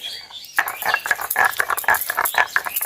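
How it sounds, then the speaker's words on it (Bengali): About 100 grams of garlic, alongside ginger, ground into paste by hand for a village-style chicken curry, making close, rhythmic scraping and knocking strokes, roughly two per second, steady throughout. "100 গ্রাম রসুনটা আমি বেটে নিচ্ছি।"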